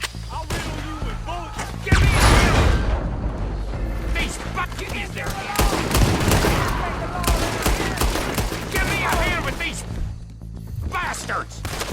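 Gunfire from the Western video game Red Dead Redemption 2, with dense bursts of shots and crashing impacts over busy game noise, loudest near the two- and six-second marks, while a voice shouts throughout.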